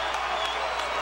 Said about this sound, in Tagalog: Manny Pacquiao acknowledging the cheers of a huge Filipino crowd